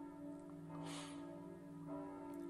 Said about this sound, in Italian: c'è sempre una campana che suona